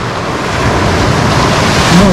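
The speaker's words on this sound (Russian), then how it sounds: "Море шумит." Sea surf rolls in along a Black Sea beach near Lazarevskoye after heavy rains, a steady broadband wash of breaking waves with a little wind noise, close and fairly loud, swelling slightly toward the end.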